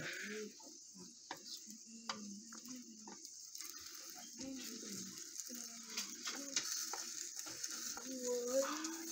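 An omelette fries in a pan with a soft, quiet sizzle, broken by light scrapes and taps as the pan is tilted and the egg is worked over; faint voices occasionally come through.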